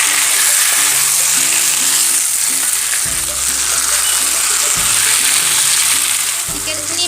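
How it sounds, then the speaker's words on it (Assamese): Chicken curry with potatoes sizzles loudly in a pan as it is stirred: a steady, close hiss of frying with low background tones underneath. "তাত লৰাই দিব"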